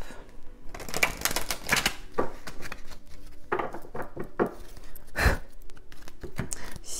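A deck of oracle cards is shuffled by hand in a series of quick, close, dry riffling and tapping bursts with short pauses between them.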